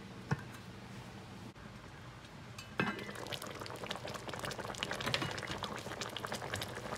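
Curried goat meat boils in a covered pot, a soft bubbling that starts quiet and turns into a busier, louder burble after a few seconds, with occasional small ticks and no speech.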